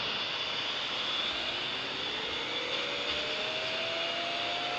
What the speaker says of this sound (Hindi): नहीं ड्रोन है।